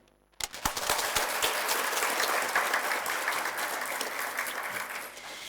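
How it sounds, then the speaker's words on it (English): Audience applause at a science forum plenary session breaks out abruptly after a brief quiet moment, then holds as a dense, steady wash of clapping from a large crowd for about five seconds. "perhaps you could all join in giving a round of applause to all of the Science Council"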